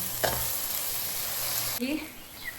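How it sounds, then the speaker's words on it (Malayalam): Spinach curry with coconut is stirred in a pan over a loud, steady frying sizzle, with a spoon scrape at the start; the hiss drops away abruptly near the end, leaving a few faint clinks. "കുറച്ചിട്ട് ഇളക്കി കൊടുക്കാം കേട്ടോ"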